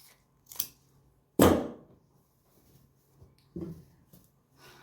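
Scissors snip through salwar fabric at its centre during home stitching, giving a few short, separate cuts with quiet pauses between them and no talk.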